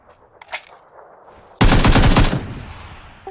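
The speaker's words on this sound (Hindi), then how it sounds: "they shooting you" In a PUBG match, a faint distant shot or two is followed by a loud, close burst of rapid automatic gunfire lasting under a second before fading.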